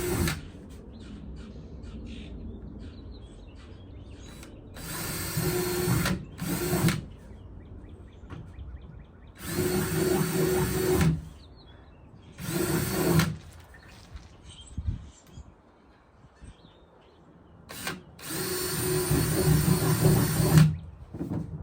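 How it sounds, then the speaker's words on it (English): A power drill whirs in several separate bursts of a few seconds each, drilling holes in a kayak, loud and close, with quiet pauses between them. "I'm just going to go ahead and drill these holes now"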